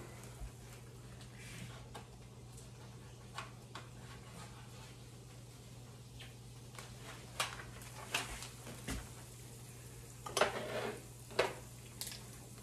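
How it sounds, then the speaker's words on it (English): Venison browning in a pan and being stirred, faint sizzle beneath irregular scraping and clinking of a utensil against the pan, with soft low hum throughout. "we're going to just brown them around and mix them around a little bit, brown them a little bit"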